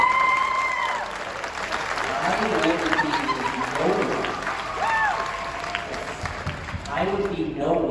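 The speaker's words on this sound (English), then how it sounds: "Give her a thunder strong applause" A school band festival audience gives steady, sustained applause with some cheering for a theater teacher, filling the room throughout while voices speak over the clapping.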